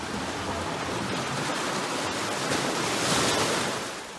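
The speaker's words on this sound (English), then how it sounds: "In this video, you can see and hear the roar of the waves at the cave opening." Waves roaring and sloshing at the opening of Devil's Hole, a partially water-filled limestone cave in Death Valley National Park, a continuous loud rush of water that swells slightly near the end, with no voices.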